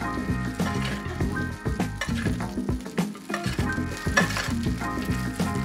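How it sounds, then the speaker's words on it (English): A fish sizzles in melted butter in a hot stovetop pan as it is basted, with steady loud frying crackle broken by spoon clinks and scraping against the pan. "we're just gonna baste this."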